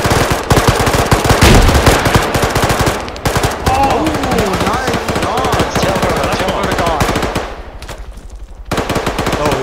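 Loud, rapid automatic gunfire rips through a video game firefight as players shoot down a helicopter, with sustained bursts, heavy impacts and short pauses between volleys.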